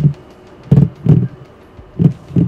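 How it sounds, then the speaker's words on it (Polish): A PlayStation 2 gamepad buzzes in short paired pulses like a heartbeat during Fallout: Brotherhood of Steel, low muffled thumps repeating twice in quick succession, close and alone. "Że niby serce bije tak."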